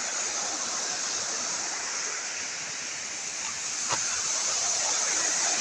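Water rushes steadily over a village dam in Chafe, a continuous bright hiss of flowing water heard close and unbroken throughout, with no voices over it.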